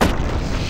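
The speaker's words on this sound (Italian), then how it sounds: "Ecco lì il cannone che spara le palle." A cannon in the video game Happy Wheels fires balls, giving a short, muffled low boom that fades into a dull rumble, with no voices present.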